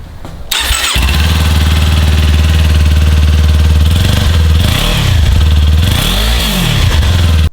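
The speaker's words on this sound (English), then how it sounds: "Let's start the bike up, let you listen to my current exhaust." A motorcycle fitted with a slip-on exhaust fires up with a sharp start, then settles into a loud, close, throbbing idle broken by two quick throttle blips.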